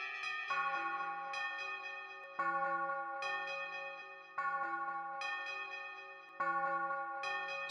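A virtual bells instrument plays in a metal mix, pitched up around the C5 range. Bright metallic strikes ring out about every two seconds, each with long shimmering overtones that fade slowly, heard alone.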